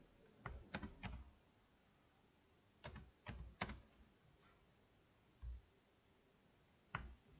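Keys on a computer keyboard tap out a Wi-Fi password in short scattered bursts of soft clicks, quiet and close, with pauses between groups of keystrokes.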